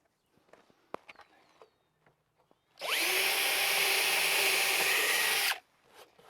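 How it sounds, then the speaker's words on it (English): A power drill bores a 5/16 inch hole through a fence bracket and wooden fence board: one continuous whining burst of about three seconds, close and loud, after light handling and footstep noises. "and drill a 5/16 hole."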